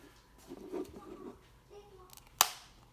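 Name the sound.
headphone ear cushion clicking into place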